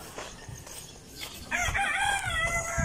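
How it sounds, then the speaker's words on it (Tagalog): A flock of chickens with chicks clucks beside railway tracks and a rooster crows loudly nearby, with a murmur of background noise throughout. "Ito naman isang grupo ng mga manok."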